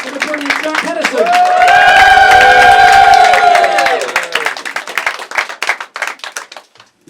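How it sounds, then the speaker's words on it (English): A live comedy-show audience erupts in loud cheering and whooping, then breaks into rapid, sharp clapping and stamping that thins out toward the end. "Let's see everyone stamping their feet, clapping their hands, and cheering for the brilliant Henison."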